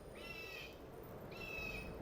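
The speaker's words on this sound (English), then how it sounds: "Hey, you hear the cry of a bird." Two drawn-out, high bird cries ring out in the Skyrim video game, separated by a short pause, clear and moderately loud over a soft ambient background.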